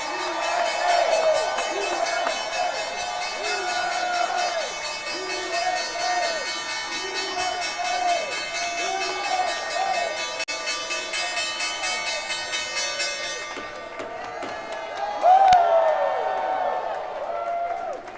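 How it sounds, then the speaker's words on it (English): Stock exchange closing bell at a holiday-eve session, a sustained ringing tone over a cheering trading floor crowd, with a voice briefly shouting above the noise before the bell cuts off near the end. "It's time now for the closing bell."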